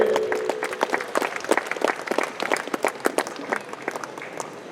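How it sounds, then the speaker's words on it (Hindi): An audience at a Christmas college gathering applauds loudly to welcome the Fathers to the stage, a dense run of crisp, near claps that keeps going for several seconds, with a faint tonal hum under the start. "जोरदार तालियों के साथ हम फादर्स का स्वागत करें।"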